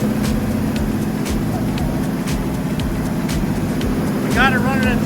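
A rebuilt 1968 Pontiac 400 HO V8 held at a steady 2,000 RPM for break-in, giving a loud, even, continuous rumble close by. A brief chirping sound rises over it near the end.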